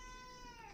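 A pet cat meows once at a low level, giving a short, drawn-out tonal cry that sounds a little distant in a quiet room during a guitar-collection show.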